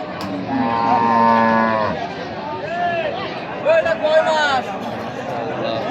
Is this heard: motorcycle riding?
no